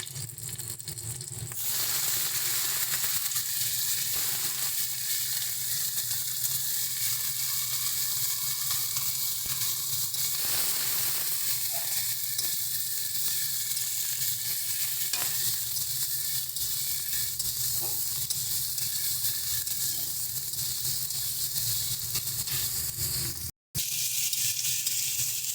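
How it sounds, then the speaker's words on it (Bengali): Potato and eggplant pieces fry in hot oil in a pan, giving a steady close sizzle and hiss that runs unbroken for the whole stretch with occasional stirring and no talk. "দেখো আলু আর বেগুনটা হালকা ভাজা হয়ে গেছে"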